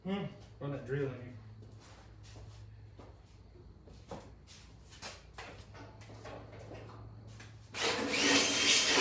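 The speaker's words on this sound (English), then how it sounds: "Run that drill in here." A power drill is run on a car chassis in a garage, with tapping and clattering and people talking before it. Then a loud, dense burst of drill whine comes in near the end.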